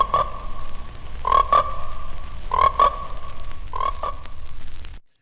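Frogs croaking in a commercial for the film Frogs, four loud paired croak bursts in a steady rhythm over a low background, ending abruptly.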